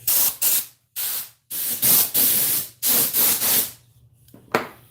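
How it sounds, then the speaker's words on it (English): An electric sander works on a wooden dough bowl in repeated loud bursts of harsh abrasive whirring, each lasting under a second, separated by short pauses, then a brief final hit. "I'm glad this sander works quick. It's a good sander."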